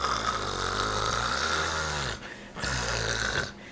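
A man snores loudly with a deep, rattling rumble, then a brief pause before the next raspy breath begins.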